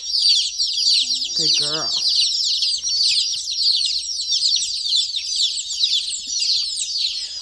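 Hens and baby chicks cheep and cluck continuously in a dense, high chorus close by, while a person briefly speaks over them.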